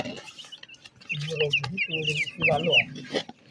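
Domestic chickens and roosters cluck close by in a home backyard flock, with repeated short clucks and higher squawking calls, and a person talks among them.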